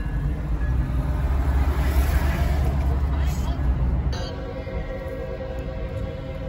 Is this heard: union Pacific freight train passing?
yes